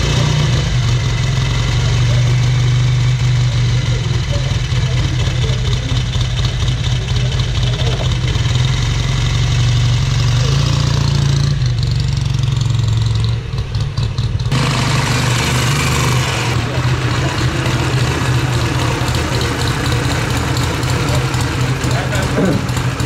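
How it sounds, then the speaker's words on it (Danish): A restored 1959 AJS classic motorcycle engine idles steadily at a classic bike event, a loud low throb that carries on under an announcer talking over a public address. "Og han her, Lars Fransen, han kører på en AJS 1959."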